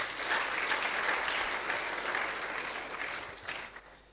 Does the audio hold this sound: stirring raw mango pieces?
no